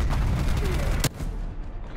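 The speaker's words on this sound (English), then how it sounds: "got some artillery inbound on my cords." An artillery strike in Call of Duty: Black Ops Cold War during a team deathmatch lands as loud, dense rumbling blasts, with one sharp crack about halfway, then continuing rumble.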